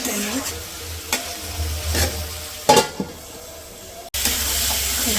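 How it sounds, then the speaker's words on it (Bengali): Meat sizzles and fries in a pan in a rustic village kitchen, with a steady hiss broken by a few sharp clatters of stirring and a short cut before the sizzle resumes. "মাংসটা ঢাইকে ভালো করে কষে নিই।"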